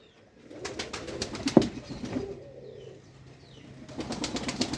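Pigeons coo softly nearby in low, rolling calls, with a brief flutter and some faint background noise between the coos.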